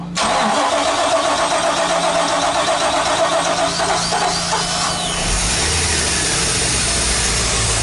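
A MerCruiser MAG 350 Bravo 3 boat engine with its hatch open cranks and fires loudly, then settles into a steady, close idle rumble, with no talking.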